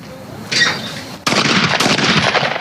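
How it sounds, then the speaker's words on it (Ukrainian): Two sharp 12-gauge smoothbore shotgun blasts at skeet shooting, the second louder and closer, each followed by a lingering rumble in an open outdoor space. "Стріляють із рушниць 12-го калібру, гладкоствольні рушниці."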